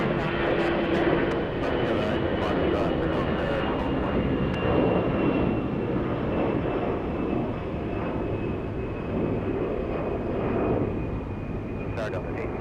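A Boeing 717 jet airliner at Atlanta's Hartsfield-Jackson airport gives off a steady loud engine roar with a sustained whine, heard alongside crackling radio chatter from air traffic control.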